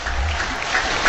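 Cricket crowd at a one-day international between Bangladesh and New Zealand applauding a New Zealand opener's century, a brief, steady roar of clapping at a distance.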